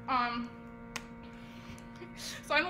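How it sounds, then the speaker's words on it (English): A steady sustained drone pitch, used as a reference tone for tuning and improvisation, holds quietly and evenly throughout, with brief voice fragments at the start and end. "here's our drone pitch. I hope you can hear it"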